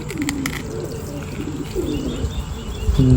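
Pigeons cooing close by, a couple of soft, throaty rolling coos over a low background hum, with a faint thump at the end.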